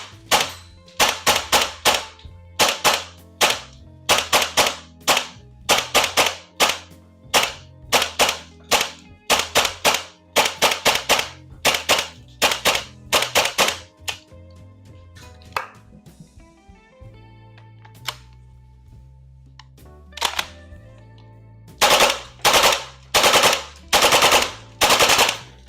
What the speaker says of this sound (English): At normal gas blowback temperatures, this bad boy will work pretty well.